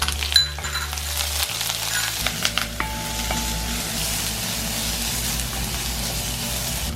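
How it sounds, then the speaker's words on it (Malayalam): Chopped shallots sauté in hot oil with mustard seeds and curry leaves for a Kerala-style tapioca samosa filling, a loud continuous sizzle opening with clinks and stirring scrapes, then settling into steady crackling frying. "ഇനി നമുക്ക് ഈ ചെറുതായിട്ട് അരിഞ്ഞു വെച്ചിരിക്കുന്ന ചുവന്നുള്ളി ഇതിലേക്ക് ഇട്ടിട്ട് വഴറ്റി കൊടുക്കാം."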